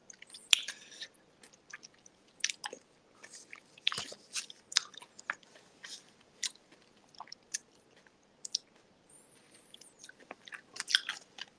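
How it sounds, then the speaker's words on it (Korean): Crunchy chewing right up close, a steady run of crackling bites and wet munching, uneven in rhythm and fairly loud against the quiet. "이게 씹는데 바삭바삭 소리가 나잖아요."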